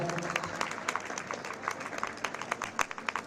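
Crowd applause for the winner on the podium at a women's cycling trophy race in Estella, a steady mass of clapping with sharp individual claps standing out, moderately loud, no voices over it.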